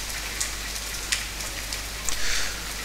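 Rain falling in the video game The Forest, a steady hiss of drops on surfaces with occasional slightly louder spatters, even and continuous throughout with no voices.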